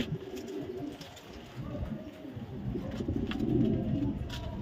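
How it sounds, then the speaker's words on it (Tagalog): A Pearl Eye Blue Bar pigeon coos softly and close by in low, rolling phrases, repeating and swelling a little toward the end against a quiet background. "Gandang kalapati nito mga kalapatids."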